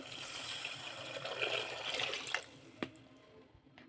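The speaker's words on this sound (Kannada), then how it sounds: "ಈ ಚೊಂಬಿಂದ 1 ಚೊಂಬು ನೀರು ಹಾಕ್ಕೊತಾ ಇದ್ದೀನಿ" Water splashing and trickling from a jug into a pot for biryani, fading out with a couple of faint clinks at the end.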